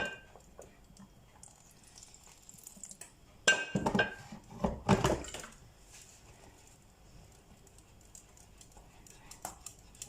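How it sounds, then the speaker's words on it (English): Water splashes into Danish brown sauce simmering in a pan, a short burst of pouring and clinking mid-way amid otherwise quiet kitchen sounds. "I'll add a bit more water."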